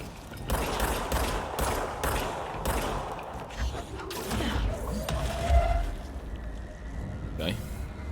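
Gunfire in the video game Control, rapid bursts of shots with sharp repeated cracks and thumps at a fairly even rhythm, moderately loud, with someone talking over parts of it.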